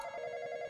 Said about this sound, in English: Where's the phone? That's the freaking phone.